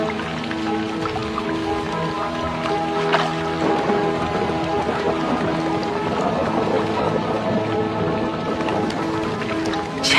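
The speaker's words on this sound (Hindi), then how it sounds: "छह महीने बाद आई पहली बारिश धरती को भिगो देती है।" Steady rain falls across the whole stretch, a dense even patter with scattered drips and splashes, broad and continuous with no voices.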